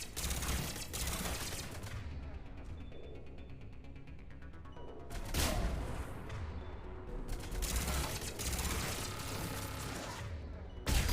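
Bursts of rapid turret gunfire from Mass Effect 3 come in loud, sustained volleys, with a lull in between and sharp reports returning toward the end.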